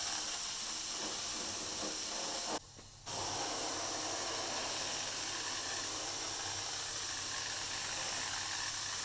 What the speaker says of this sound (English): a 1-part cellulose paint applied as thickly as the gun will pass it.